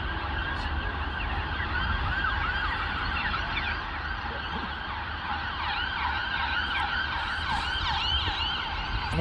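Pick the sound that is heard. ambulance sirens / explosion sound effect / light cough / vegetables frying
ambulance sirens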